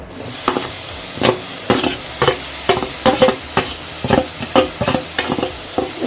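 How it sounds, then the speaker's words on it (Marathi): A pan of grated coconut, jaggery and a little ghee is stirred as a sweet filling for Konkan-style patoli. Steady rhythmic scraping strokes rise over a soft sizzle, close and fairly loud, with no talking. "व्यवस्थित आपल्याला ना मिश्रण ढवळून घ्यायचं"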